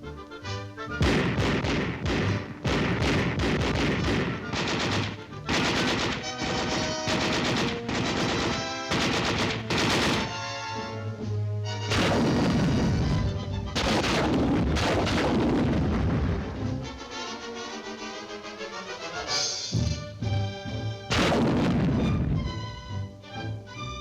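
Infantry small arms and crew-served weapons fire on a military training range, loud sharp reports and rapid bursts repeating across the whole stretch, some shots ringing with echo.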